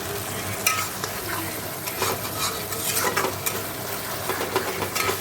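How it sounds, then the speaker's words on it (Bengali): Whole garam masala spices sizzle in hot oil for a ghugni pea curry, a steady close frying crackle with scattered light spoon scrapes and clinks against the pan, no voices. "তেল দিয়ে গোটা গরম মশলা ফোড়ন দেবো দিয়ে ঘুগনিটা বসিয়ে দেবো"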